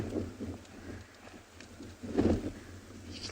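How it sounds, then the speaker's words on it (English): Gusty wind buffets the microphone on an open safari drive at sunset, a low rumbling roar that swells and eases, strongest in one gust near the end, with no voices. "You can hear how windy it is."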